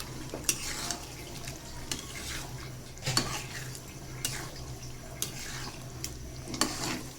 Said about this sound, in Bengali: তো মুরগিটা আমি দিয়ে দিলাম।